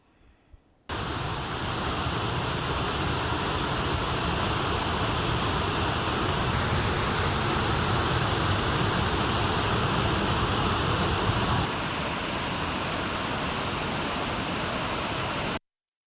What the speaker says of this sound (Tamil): உடுமலை பஞ்சலிங்க அருவியில் வெள்ளப்பெருக்கு ஏற்பட்டுள்ளதால் அருவியில் குளிக்க தடை விதிக்கப்பட்டுள்ளது